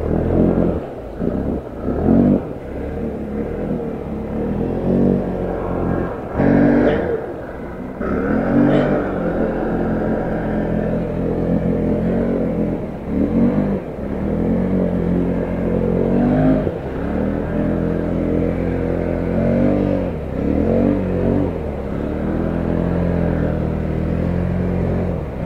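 A 2023 Can-Am Renegade ATV engine revving loud and close, rising and falling in repeated surges over a continuous low rumble through an off-road struggle.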